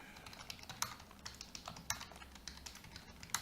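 Rapid clicky keystrokes on a computer keyboard during a RAID: World War II stream, close and fairly quiet, with irregular bursts of taps and a few sharper key hits.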